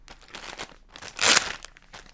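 Plastic foil packaging crinkling close up while a Pixel Box is unboxed, soft rustles swelling to one loud, sharp crackling crumple in the middle before settling back to light handling.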